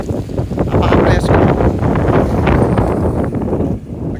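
Strong wind gusting outdoors during a walk ahead of threatened heavy rain, a loud steady rush of buffeting noise filling the whole moment with no clear voices.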